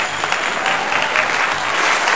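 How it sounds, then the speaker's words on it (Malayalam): A studio audience at a Bigg Boss Malayalam talk show claps for everyone, a brief, steady burst of loud applause with no talk over it. "എല്ലാവർക്കും ഒരു ക്ലാപ്പ് കൊടുക്കാം"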